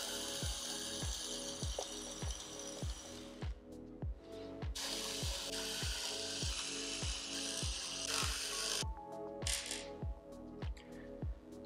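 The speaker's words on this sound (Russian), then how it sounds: "Теперь нам потребуется отвертка большего калибра. Нужно снять основные винты, которые, собственно, держат весь корпус." A screwdriver backs out the main housing screws on a Xiaomi robot vacuum. Quiet, evenly spaced ratcheting clicks repeat steadily at close range, with brief bursts of handling noise between them.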